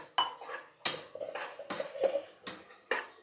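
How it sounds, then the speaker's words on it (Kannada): Ground masala paste goes into a pan of fried peas, capsicum and onion for tomato bath, heard as a few sharp metal spoon clinks and scrapes against the pan, spaced apart and fairly close. "ಈ ಟೈಮಲ್ಲಿ ನಾನು ರುಬ್ಬಿರೋಂಥ ಮಸಾಲೆನ ಹಾಕ್ತಾಯಿದ್ದೀನಿ"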